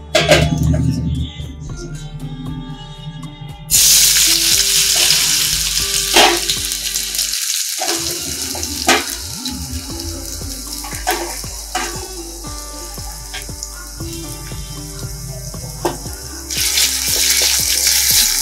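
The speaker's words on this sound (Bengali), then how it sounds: "তেল দিলাম, এই যে আলু কেটে রেখেছি আলুটা দিয়ে দেবো।" Cut potatoes dropped into hot oil in a home kitchen pan set off a loud, crackling sizzle that keeps going, with scattered clinks and stirring knocks through it and a short lull partway.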